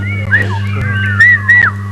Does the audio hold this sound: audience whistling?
yes